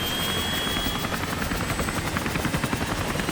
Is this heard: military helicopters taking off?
yes